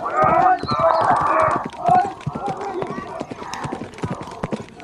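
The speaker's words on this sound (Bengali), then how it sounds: "আমরা দেখতে পাচ্ছি বিজয় নিশান ঘোড়াটি অগ্রগামীর পথে।" Horses gallop in a village horse race on a rural field, their rapid hoofbeats thudding loudly and continuously while a commentator talks excitedly over them.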